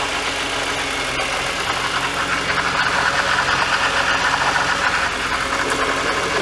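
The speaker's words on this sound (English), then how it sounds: "Oh, it's the power steering pump." A BMW E46 M3 Touring idles in a garage with its power steering pump running, giving a steady, dense mechanical drone with no change in level throughout.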